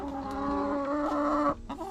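A fussy mother hen clucks inside a chicken nesting box, giving a close, loud run of agitated clucks and throaty calls over a couple of seconds.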